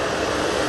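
A Jet2 airliner taking off at Manchester Airport, a steady loud broadband engine roar throughout the short stretch, with no talking over it.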